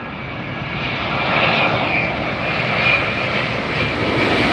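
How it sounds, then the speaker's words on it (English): An ANA Boeing 787-9 Dreamliner on final approach into LAX after a long flight from Tokyo, its loud jet engines roaring close overhead in a sustained, swelling rush with a whining tone. "This is an ANA Dreamliner coming in from Tokyo"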